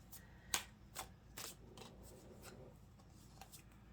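Tarot cards being shuffled by hand, a quiet riffle of soft rubbing and flicking with a few sharper snaps, close and faint against a low background hum.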